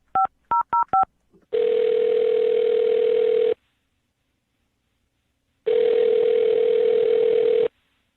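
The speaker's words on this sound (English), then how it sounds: "I'll dial her phone number right now." Telephone keypad tones beep in a quick series of four short dual-tone presses, then a steady ringback tone sounds twice in long bursts separated by a silent pause, clear and close.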